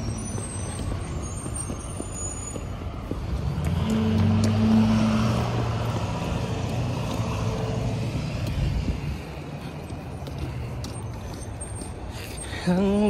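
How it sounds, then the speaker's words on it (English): A bus pulls in with a low rumbling engine that swells and fades, a hiss of air brakes and a brief rising whine, heard from nearby amid street background noise. "Oh, the bus is there."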